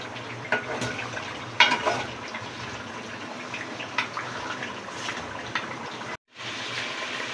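Water pours steadily into a pot of browned mutton trotters for paya, a continuous splashing gush with a few louder splashes, close and alone until a brief cutoff near the end.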